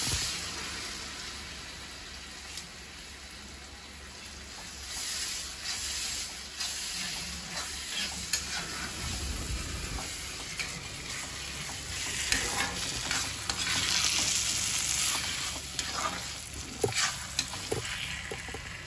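Curry leaves and coriander sizzle in hot oil in a pan, a steady frying hiss with repeated stirring scrapes and clatters throughout, fairly close and without voices.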